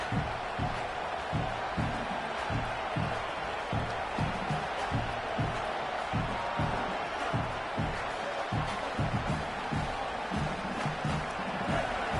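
A large stadium crowd roars continuously at an American football game, a dense wall of cheering with rhythmic thumping underneath, loud and sustained throughout.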